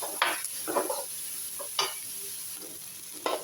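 Onions sautéing in a pan for egg curry: a steady hiss of sizzling oil with several sharp scraping bursts as a spatula stirs them, close by and moderately loud, with no speech.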